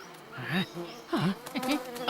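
Cartoon flies buzz around food in short, swooping bursts that rise and fall in pitch, fairly close and with no voices over them.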